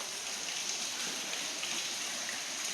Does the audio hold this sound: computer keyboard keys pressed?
no